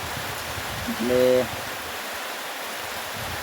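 Steady, gentle rain makes a soft, even hiss throughout, with a person speaking briefly.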